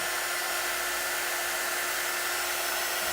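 A two-setting quick-dry craft heat tool blows steadily at close range, a constant airy whoosh with a motor whine running throughout, with no talking over it.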